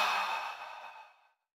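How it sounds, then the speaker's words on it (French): A single long exhale blown out through the mouth during a Pilates breathing exercise, a soft airy sigh that fades out over about a second and a half, followed by silence. "on inspire par le nez. On gonfle la cage par le ventre et on souffle par la bouche"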